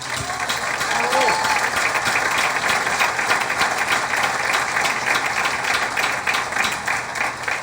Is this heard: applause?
yes